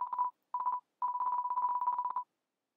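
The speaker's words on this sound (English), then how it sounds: "It's a landline phone." Phone tones from a landline in the video game DeltaRune: a steady, mid-pitched electronic tone cut into clipped, rhythmic beeping bursts, with two short groups and then a longer run, clear and alone.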